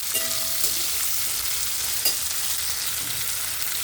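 Potatoes fry in a pan with salt while being stirred. A soft, steady sizzle runs throughout, broken by occasional light scrapes and taps of the spoon, with no voices.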